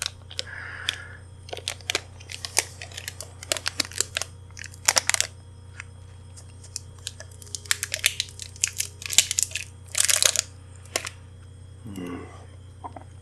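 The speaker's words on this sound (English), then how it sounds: "It's a Russell Stover candy corn marshmallow. So let's go ahead and open this up." Crinkly plastic wrapper of a Russell Stover candy corn marshmallow is peeled open up close, giving sharp, irregular crackles and rustles in quick bursts over a low steady hum.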